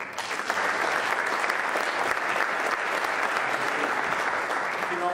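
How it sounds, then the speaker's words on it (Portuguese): A conference audience at a closing session applauds in a steady, dense wash of clapping that holds at an even loudness for about five seconds. "para todos eles, já agora também uma salva de palmas"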